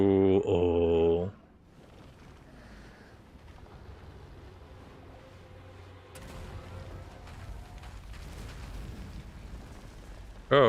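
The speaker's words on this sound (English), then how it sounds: "Oh, the explosion." A loud, brief blast from an in-game explosion opens the moment, followed by a long, low rumbling tail of debris and wind-like noise that swells again near the end.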